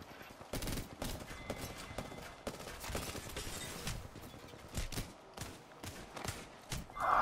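Rapid bursts of Apex Legends video game gunfire crackle in irregular volleys, with quick clicks and impacts between shots.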